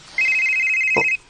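A cellphone rings with a single steady electronic tone held for about a second, loud and close, with a brief low thump near its end.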